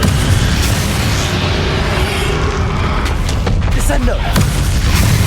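A dense, continuous rumble of explosive booms and crackling blasts from the Confringo spell in Hogwarts Legacy, loud and sustained, with a voice briefly heard in the mix.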